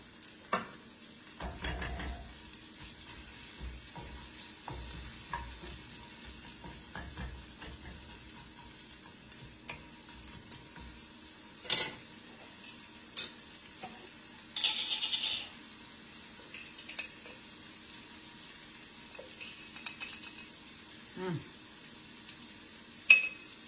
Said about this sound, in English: So break those onions up where I sliced them